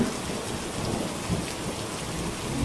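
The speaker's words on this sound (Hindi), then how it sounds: "कुछ दिनों बाद गांव में भयंकर बारिश शुरू हो गई।" Heavy rain pours down steadily in a village, with low rumbles of thunder rolling beneath the dense hiss of the downpour throughout, loud and close with no voices.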